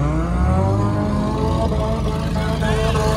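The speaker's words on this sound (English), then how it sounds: "That Durango doesn't sound too good" A Dodge Durango revs hard through burnout donuts, its engine climbing and wavering loud and close while the tires spin, with voices faintly underneath.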